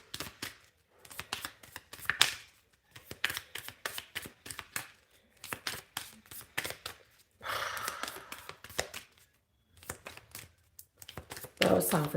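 Large, slippery tarot cards riffle and slap in repeated quick bursts of shuffling, close and crisp, with brief pauses between rounds and a voice speaking in the gaps.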